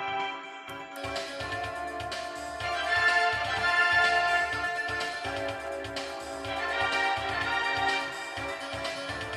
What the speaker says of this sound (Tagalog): Yan ang tunog ng full range driver.